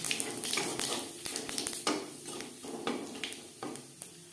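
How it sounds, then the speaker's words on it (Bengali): A dried red chilli and half a spoon of whole cumin seeds fry in oil left from frying fish, a dense close sizzle and crackle with light stirring knocks throughout, no voices. "মাছ ভেজে নেওয়া তেলে ফোড়নে দিয়ে দিলাম একটা শুকনো লঙ্কা, 1/2 চামচ"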